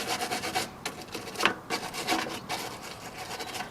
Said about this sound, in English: Just using a plastic brush to get all the soil out of the top of them.